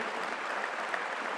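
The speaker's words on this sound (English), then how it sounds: "I would like you to give a long applause to them" Brief, quiet applause from an audience at a grand finale gathering in Bangkok, a soft, even patter of many hands clapping for a team, heard at a distance.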